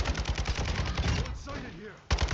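Rapid gunfire bursts from the video game Warzone 2.0 DMZ, loud and rhythmic, pausing briefly before another burst resumes near the end.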